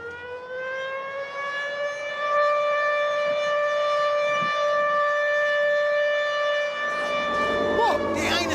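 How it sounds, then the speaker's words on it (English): An air raid siren in Britain wails with a steady, loud, harmonic-rich tone that holds for several seconds, then shifts and winds as it nears the end, with no talking over it. "Air raid sirens were only removed from British towns 20 years ago"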